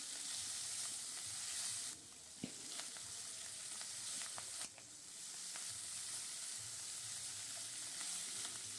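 Capsicum and spring onion frying in a pan for vegetable chowmein, a steady close hiss of sizzling oil with occasional stirring clicks and scrapes, and two brief dips in the sizzle.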